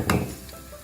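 Four or five dried red chillies drop into hot oil with cumin for a kadhi tadka, a quick clatter and then a soft, steady sizzle.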